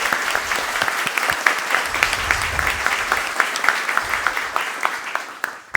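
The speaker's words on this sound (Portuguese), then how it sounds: "que a gente saudasse ela com muitas palmas" Sustained applause fills a council chamber session, a dense steady wash of many hands clapping with a few sharper claps standing out, continuing at a fairly even level before tapering at the end.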